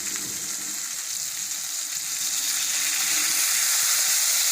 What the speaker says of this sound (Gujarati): તો થોડુંક આપણે આમાં પાણી નાખશું